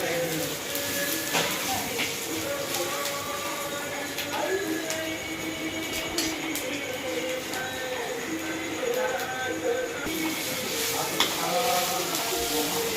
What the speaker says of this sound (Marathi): हा मसाला लोखंडी तव्यावरच भाजायचा किंवा मग लोखंडी कढईत